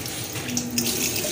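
A tap runs steadily into a sink as hands are washed, a close, continuous splashing flow with no talking.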